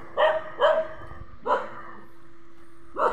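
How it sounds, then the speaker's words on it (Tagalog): A dog barks four times in short bursts with uneven gaps near a Chinese temple, fairly close and clear above a steady low hum and background ambience. "Ay aso."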